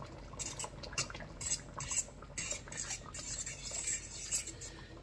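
Spoon stirring mango shrimp Alfredo sauce in a pan, with repeated close scraping and clinking strokes against the metal at an irregular rhythm, plus faint liquid sloshing.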